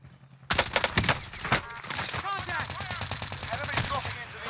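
Automatic weapon fire in a Warzone video game fight, a loud volley starting abruptly then continuing as sustained overlapping bursts, with a player's voice speaking over the shooting.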